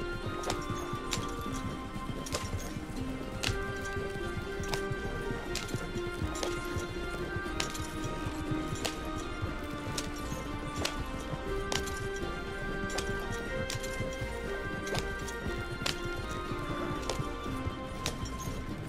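Horses pulling a wagon in Red Dead Redemption 2 Online, hooves clip-clopping in a steady rhythmic trot through a wheat field, soft and continuous with faint tonal game sounds in the background.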